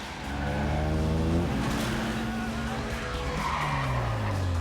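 Tires squeal loudly and continuously in a car chase through the narrow alleys of a Korean hillside neighborhood in the Korean film The Suspect, with engine roar and sliding pitch throughout.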